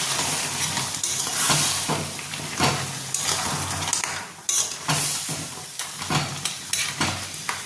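Spice masala in a crab curry sizzles and hisses in a pan as a little water goes in, with repeated scraping stirs and clinks of a spoon against the pan.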